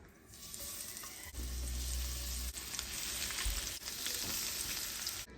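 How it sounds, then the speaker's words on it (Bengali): Seasoned cod fillets coated in breadcrumbs frying in hot oil, giving a continuous, fairly loud close sizzle and crackle throughout with no speech. "একটু গরম গরম ভেজে দেবো হালকা সিজনিং দিয়েছি আর একটু ব্রেড ক্রামস দিয়ে ভাজবো"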